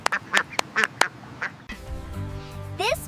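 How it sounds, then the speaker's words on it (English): A duck quacks in a quick series of loud, nasal calls close by, followed by a rougher stretch of quacking and squawks. "Ducks can swim very well."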